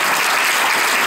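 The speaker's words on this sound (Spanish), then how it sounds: "Denle un aplauso al Señor." A church congregation claps during an evangelical sermon, a dense, steady wash of applause filling the whole short moment without pause.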